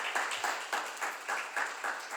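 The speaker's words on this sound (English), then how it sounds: "So can we have an applause for the organization?" Conference audience at a tech meetup applauding the organizers, a steady round of clapping with rhythmic swells that carries on for a couple of seconds without talk.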